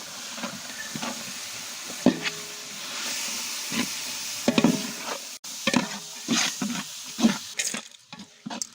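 Tomatoes with carrots and beans sauté in a pot for vegetable biryani, a soft steady sizzle and hiss with intermittent scrapes and knocks of stirring.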